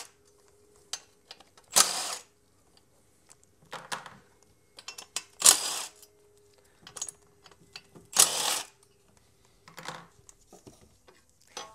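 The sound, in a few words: ratchet removing 8mm bolts from car crash shield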